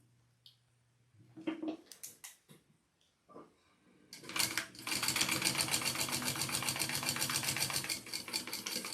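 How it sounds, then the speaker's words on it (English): A sewing machine top stitches down the sides of a fabric sling pack. A few soft handling clicks and bumps come first, then a fast steady rattle of stitching runs loud and close to the end. "I'm going to top stitch down both sides."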